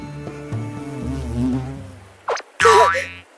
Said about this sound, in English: I'm not used to being around warm weather insects. Jelly bees are the worst.